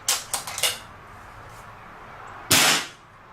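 A Kral Arms Puncher Breaker air rifle fires indoors without its silencer, one loud sharp crack with a brief ringing tail, preceded by a few lighter mechanical clicks.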